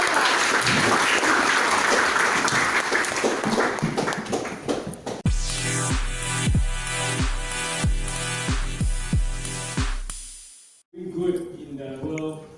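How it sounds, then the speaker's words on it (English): A hackathon audience bursts into applause for about five seconds, a loud, dense clatter of clapping, before it cuts to a run of booming, rhythmic music with heavy repeated low hits and then a brief quieter passage. "let's give them a big round of applause"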